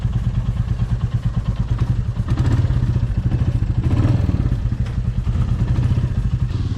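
Motorcycle riding a snowy mountain road out of Keylong on the Manali–Sissu route, a steady low engine drone with clattering road thumps and small throttle swells, close and continuous with no talking.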